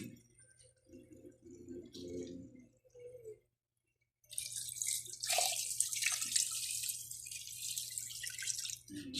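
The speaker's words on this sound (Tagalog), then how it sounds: "Lagyan na natin ng tubig." Water runs and splashes steadily into a cooking pot for soup after a brief pause, with a low hum underneath and a few soft clinks near the start.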